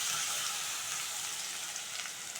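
Raw mango pieces fry in oil with mustard seeds and curry leaves, giving a steady close sizzle with light crackling throughout.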